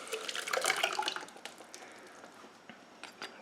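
Canned San Marzano tomatoes slosh and drip from the can into a pan of softened onion, a wet pouring burst that thins into faint trickles and drips, close and quiet with no talk.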